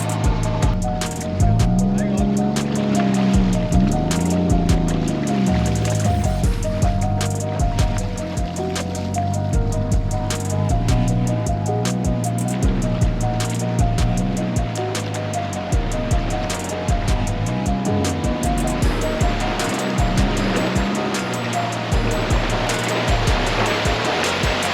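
Toyota Land Cruisers plough through a deep flooded creek crossing on the Old Telegraph Track in Cape York, with continuous loud water surge and splashing over a low engine drone, wave-like rushes rising and falling throughout.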